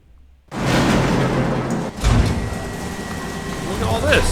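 A heavy mill door in the video game Fallout 3 opens with a loud grinding, rumbling slide that runs several seconds, with a thump partway through and game ambience behind it.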